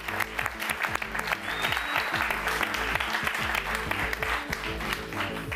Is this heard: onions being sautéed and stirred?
no